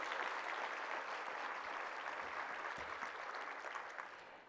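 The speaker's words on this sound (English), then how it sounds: "How about a big round of applause for you?" Applause from a large audience of around 600 supporters at a kidney charity breakfast, a dense steady round of clapping that fades out near the end.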